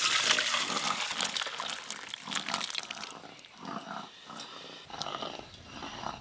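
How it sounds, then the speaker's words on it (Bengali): Boiled vegetables are tipped out of a pot, a rhythmic run of soft sloshing and wet plopping pours that come in repeated bursts, fairly quiet and close. "এবার ঢেলে নেব।"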